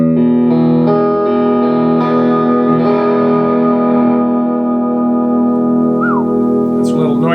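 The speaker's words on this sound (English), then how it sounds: "so compression, drive, tube drive, a little bit of delay, echo chamber" A Squier Stratocaster electric guitar sounds through compression, drive, tube drive, a little delay and echo chamber effects. A few picked notes ring out loudly and sustain into a long echoing wash, ending with a brief sliding squeal.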